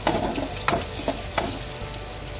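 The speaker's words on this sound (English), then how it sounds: "saute till it's brown." Lentils and green chilies sauté in a pan with a soft continuous sizzle, broken by a few scraping stirs near the start.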